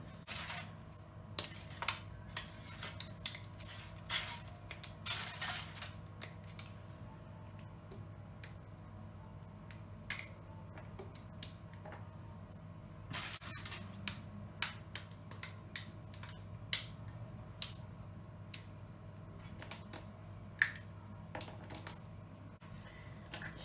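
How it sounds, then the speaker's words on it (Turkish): Butter melting in a pot with the heat turned off while being stirred, for a supangle chocolate pudding: faint scraping with scattered light ticks and taps of a utensil against the pot, quiet and close, with no speech. "Şimdi karıştırıyorum ve eritiyorum."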